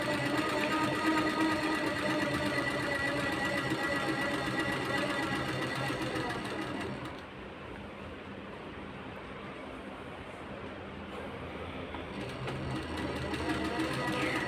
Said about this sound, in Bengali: 1/2 ইঞ্চি ছেড়ে একটা সেলাই দিয়ে দেবে।